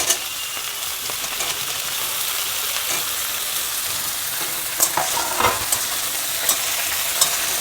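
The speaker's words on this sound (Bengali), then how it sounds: "বিনসটা আমার অর্ধেক ভাজা হয়ে গেছে, এবার আমি ওর মধ্যে দিয়ে দেব কেটে রাখা আলুগুলো।" Half-fried green beans sizzle in a pan as cut potatoes are added and stirred in. A steady, loud hiss of frying runs throughout, and occasional sharp clinks of the spatula against the pan stand out.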